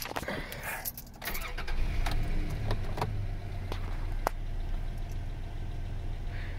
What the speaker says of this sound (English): let's go crank her over and see if that fixes something